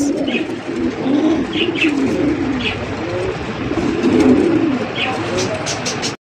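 Indian kakji pigeons coo in a low, repeated murmur close by, several birds overlapping in soft throaty calls, with someone talking steadily over them.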